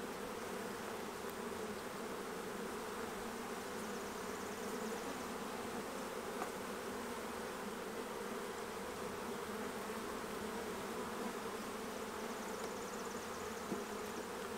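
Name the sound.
honey bees buzzing around hive frames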